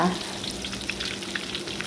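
Oil sizzles and crackles steadily in a hot pan as garlic paste is stir-fried, with soft scraping and popping, close and moderately quiet.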